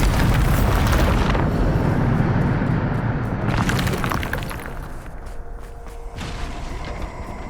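A Bombarda blasting spell cast in Hogwarts Legacy erupts in a loud, crashing explosion with shattering debris, then a second blast follows about three seconds later and fades into a rumbling tail.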